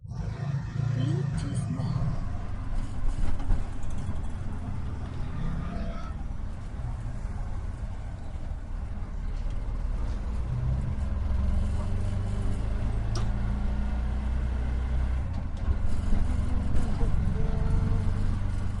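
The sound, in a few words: Bajaj auto rickshaw being driven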